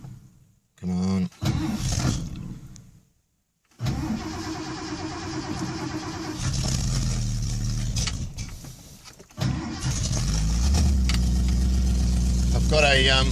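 A restored 1969 Ford XW Falcon engine with a newly fitted exhaust cranks, stumbles, then catches on the second try and settles into a loud, rough idle close by.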